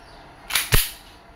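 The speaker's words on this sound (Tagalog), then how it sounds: "Engineer Ronel, testing tayo, shooting test ng inyong unit, Glock 34 4 series or the Glock 34 F series by WE." WE Glock 34 F-Series airsoft pistol with silver slide, two sharp close snapping shots in quick succession, each a crisp crack with a short tail, in a quiet room.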